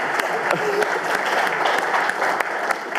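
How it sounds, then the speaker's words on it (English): Audience applause at a Three Minute Thesis competition, a dense, lively burst of clapping from a room full of people, close and fairly loud, with individual sharp claps standing out. "A big round of applause."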